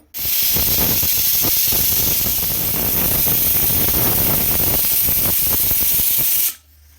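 A pressure cooker boiling fresh pigeon pea pods lets off one long, loud, steady hissing whistle of steam lasting several seconds before cutting off abruptly.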